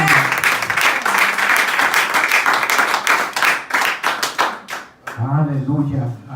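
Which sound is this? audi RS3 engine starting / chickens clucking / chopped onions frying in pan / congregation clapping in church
congregation clapping in church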